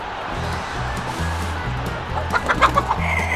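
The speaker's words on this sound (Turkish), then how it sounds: "Bana bakın tavuk dansı yapıyorum arkadaşlar." A Roblox chicken dance emote gives repeated clucking, a rhythmic run of short clucks that grows busier and louder toward the end over faint game ambience.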